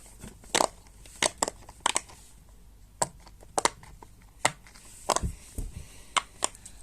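Pop-it fidget toy from a fidget pack being pressed, giving sharp, close popping clicks one or two at a time with brief pauses between, mostly alone in a quiet room.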